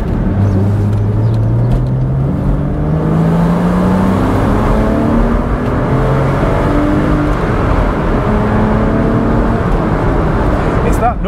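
Porsche Boxster engine revving hard at high RPM, a loud continuous rising and falling wail with climbing gear tones throughout, close and dominant.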